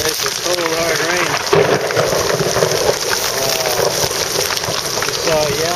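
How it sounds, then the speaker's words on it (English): Hard, cold rain pours steadily on a coast in a squall, a dense constant hiss close by, with a voice speaking over it. "Nice and cold, hard rain."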